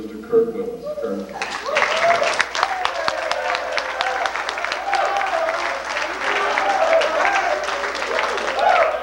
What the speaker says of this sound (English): I'd like to have you give both these young people a round of applause.